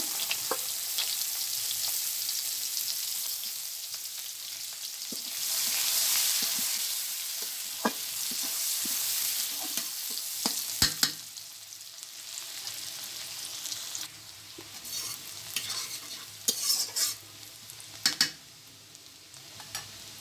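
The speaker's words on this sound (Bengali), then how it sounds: "কড়াইয়ের ভিতরে মাছ বাজার যে তেলটা রয়ে গেছে এগুলো ভিতরে পেঁয়াজগুলো দিয়ে দিলাম" Onions frying in leftover fish oil in a wok, a steady close crackling sizzle with occasional stirring scrapes and clinks, louder bursts in the middle and near the end, no voices.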